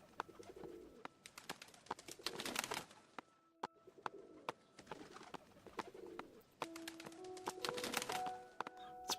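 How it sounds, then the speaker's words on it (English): Ambient birds coo and chirp over a video game's start screen, dove-like calls repeating softly, mixed with sharp clicks and a few sustained tones of music starting up. "the game starts, and you hear birds around it"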